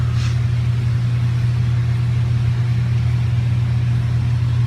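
Mazda Miata engine running steadily after a welded exhaust bung, a constant low idle hum with no revving, close and alone.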